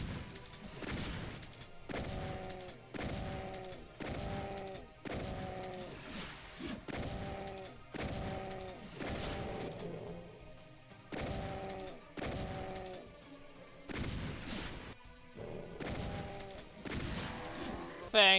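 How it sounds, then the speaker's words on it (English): Shotgun blasts ring out in Ultimate Doom, a dozen or so sharp booms spaced about a second apart, mixed with growling monster cries between shots, with a voice talking faintly at times. "I shall cover them in shotgun shells."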